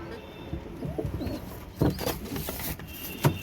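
Pigeons, some with pigeon pox, cooing softly in a low, throaty rhythm, with a couple of louder flutters or calls standing out near the end.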